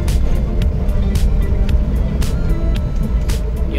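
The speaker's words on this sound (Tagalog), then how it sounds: "Yung naririnig nyo, yung maingay, yung gulong lang yan." Broadband road and tire roar from a Suzuki DA17V semiwagon driving, a steady low rumble with brief hiss bursts, continuous and close throughout.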